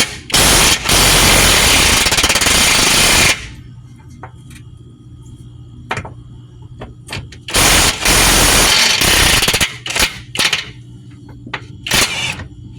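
An impact wrench removes bolts on a 2007-2012 Nissan Altima lower control arm, loud hammering bursts at the start and again around the eighth second, with quieter rattles and clicks in between.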